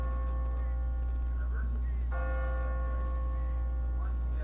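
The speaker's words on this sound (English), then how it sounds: "What kind of church bell goes off at 20 past the hour?" A church bell rings on an automatic timer in The Walking Dead game, its steady tolling tones sustained over a low hum and faint ambient background, with no voices.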